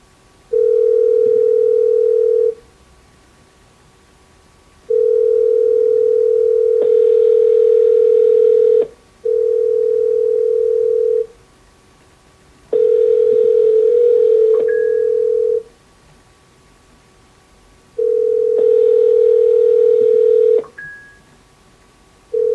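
A telephone call being placed gives a steady ringback tone in long loud pulses separated by short silences, repeating about six times, close and clear with no voices.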